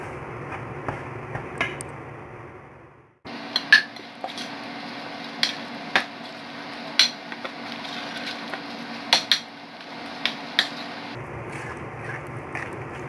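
A spoon stirs bala-bala vegetable fritter batter in a bowl, giving a run of sharp clinks and scrapes against the bowl over a steady background hum, close and moderately loud.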